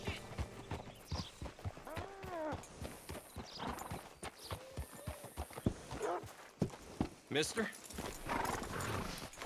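Horse hooves clip-clop in an uneven rhythm alongside a whinny, with voices talking over the top in a scene from the video game Red Dead Redemption 2.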